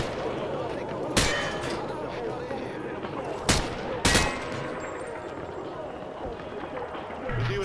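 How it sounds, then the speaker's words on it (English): Rifle gunfire in Call of Duty Modern Warfare 2, fired from the hip, comes as a few sharp, separate bursts over busy in-game battle noise. "He sprayed bullets all over the damn place."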